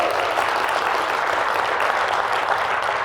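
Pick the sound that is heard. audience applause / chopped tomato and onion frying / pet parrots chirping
audience applause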